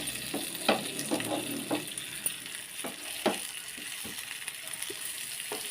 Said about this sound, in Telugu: అటువైపు కొంచెం వేగాలి. చూద్దాం ఒకసారి. చాలా త్వరగా అయిపోద్ది ఫిష్ ఫ్రై.